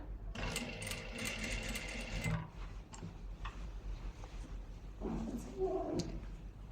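A sewing machine stitches fabric in a rapid, ticking mechanical run for about two seconds, then stops, followed by softer handling sounds and a brief burst of talk.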